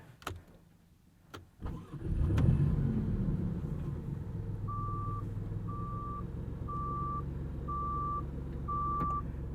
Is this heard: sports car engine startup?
yes